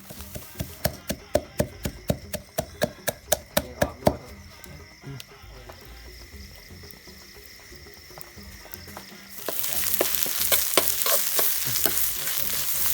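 Spice paste being stir-fried in a pan, with a run of sharp, regular utensil taps against the pan early on, then a louder, steady sizzle taking over toward the end.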